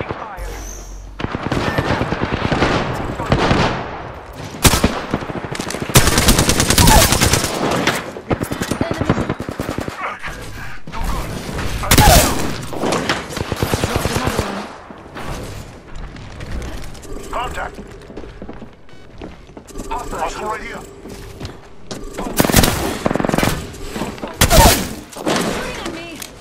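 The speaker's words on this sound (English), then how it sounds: "I'm taking fire." Game gunfire in Apex Legends, dense bursts of automatic fire and impacts packed throughout, loud and continuous with brief lulls, mixed with game sounds and a voice talking over it.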